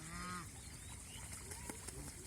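Geese on a goose farm raising big breeding stock, a honk near the start and scattered calls and cackles throughout, close and fairly loud amid a busy farmyard background.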